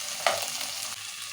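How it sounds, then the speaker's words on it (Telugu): Ginger and garlic hit hot oil for tempering a stuffed brinjal curry, giving a sudden sharp sizzle followed by a steady frying hiss with a little stirring, close and on its own. "నేను అల్లం వెల్లిగడ్డ వేస్తున్నా"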